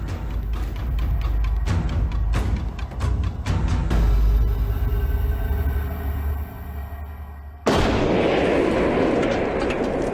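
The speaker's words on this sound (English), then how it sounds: "what happens to the Marauder when you put the same amount of explosives underneath it?" Explosive charges detonated beneath a Marauder armored vehicle give a series of heavy, booming blasts with sharp impacts, followed by a sustained roaring rumble of debris and wind, loud and close.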